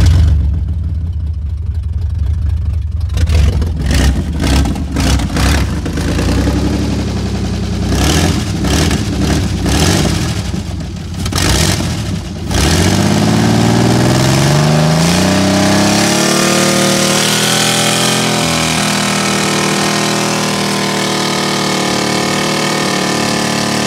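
A small gas engine sputters and fires unevenly on ether, loud and close, then catches and revs up and down, settling into a sustained high-pitched running roar.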